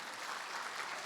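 A church congregation applauds at a Korean evangelism testimony service, steady dense clapping from many hands throughout.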